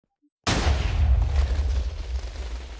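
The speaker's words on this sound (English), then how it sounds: "That many explosions going off that close to my ear." A sudden, loud dynamite explosion in a modded Minecraft game (GregTech 6) bursts out after a brief silence, followed by a long rumbling, crackling boom that slowly fades.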